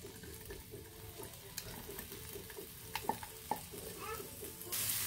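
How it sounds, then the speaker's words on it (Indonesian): Spice paste for an eggplant dish sautéing in a pan, a soft continuous sizzle under scattered scrapes and clicks of stirring, with a louder clatter toward the end; quiet and close, no talking. "ini kita tumis dulu ya bumbunya ya"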